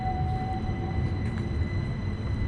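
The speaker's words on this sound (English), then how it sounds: "So here comes the tram early morning." A tram rumbles past down the center of town in Seville, Spain, early morning, with a steady low mechanical drone and a faint high whine, moderately close, with no talking.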